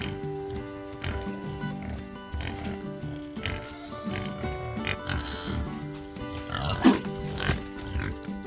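Pigs grunting and oinking in a messy pen during a winter storm, a run of close, irregular snorts and grunts with rustling and shuffling, louder squeals toward the end.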